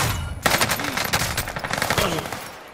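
Rapid gunfire bursts from Call of Duty Warzone, loud and close, crackling in quick repeated volleys over a steady battlefield din with a voice briefly heard.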